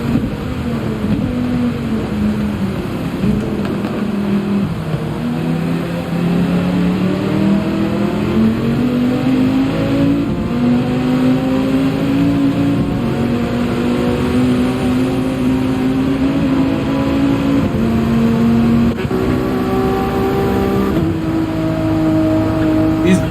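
Race car engines in Gran Turismo 7 during an endurance race at the Nürburgring, a loud continuous drone rising and falling in pitch through gear changes, steady and close throughout.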